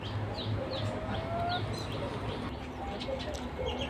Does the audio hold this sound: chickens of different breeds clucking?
yes